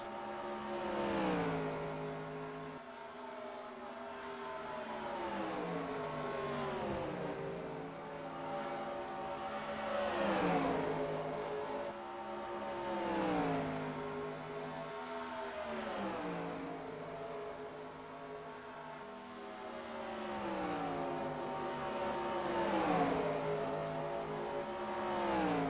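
Stock cars racing at Dover in a Winston Cup Series video game, engines roaring and swelling in repeated waves as cars pass and rev, loud and continuous with no talking.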